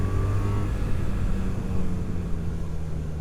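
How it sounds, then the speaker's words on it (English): Engine of a 2025 BMW R 1300 R motorcycle, a boxer twin, heard as a steady, fairly loud low drone with rising rev tones, close and continuous without talk. "Obviously then you got the revs, and it'll rev and rev and rev."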